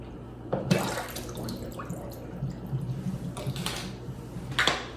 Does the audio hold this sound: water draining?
yes